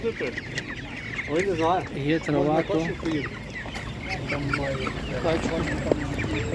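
Broiler chickens at a village animal market clucking repeatedly in close, busy bursts, with people talking nearby over the farmyard noise.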